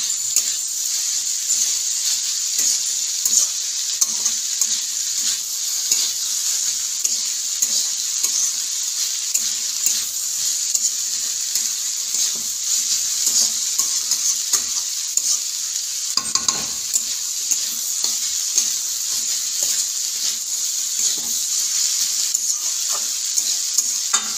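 Cabbage curry sizzles steadily in a hot pan while a utensil stirs it in frequent scraping strokes, loud and close, with no talking.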